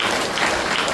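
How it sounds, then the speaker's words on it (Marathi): A crowd claps steadily at a church prayer and healing service, a dense, continuous patter of many hands filling the whole second at moderate loudness, with no talking. "टाळ्या वाजवत आपण देवाचा"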